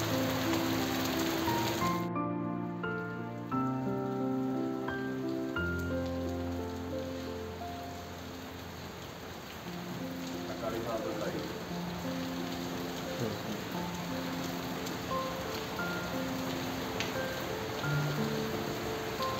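Rain falling on surfaces in a park, a soft steady patter with scattered drops throughout, heard under sustained tonal music in the background.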